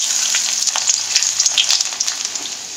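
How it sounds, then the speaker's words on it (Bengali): Chopped ginger and garlic fry in hot oil while making chilli chana, giving a steady, close crackling sizzle with small pops throughout and no talking. "এবার এই তেলের মধ্যে দিয়ে দেবো আদা রসুন কুচিটা"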